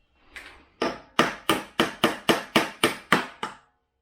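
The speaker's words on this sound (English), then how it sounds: "get a little hammer, tap that in." A small hammer taps a part into place on a gas roof pump proportioner build, about ten sharp, evenly spaced metallic strikes in quick succession, close and fairly loud, with no talking.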